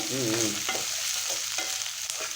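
Onions sautéing with salt in a pan for a spicy onion chutney, giving a steady close sizzle with soft scraping from stirring, all without talk.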